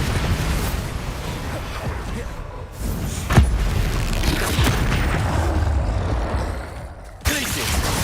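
Bombarda explosion spell cast in Hogwarts Legacy, heard as loud booming blasts over a sustained rumble of battle noise, with a short dip near the end before the din returns.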